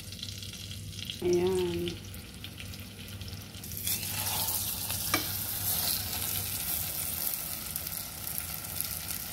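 Pork roast coated in flour sizzles and fries in a pan, a steady crackle rising after a few seconds and continuing through the rest, with a short spoken word early on.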